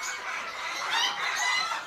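Chickens cluck at a poultry breeding farm, busy overlapping calls close by, fairly loud and continuous across the short stretch, with no voices.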